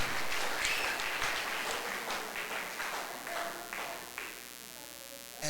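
A church congregation claps together in a fairly strong burst that thins out and stops toward the end, leaving a faint electrical hum.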